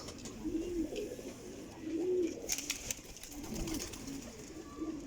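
Pigeons coo in a low, soft, repeated way a short distance off, with a few brief rustles and taps in between and no speech.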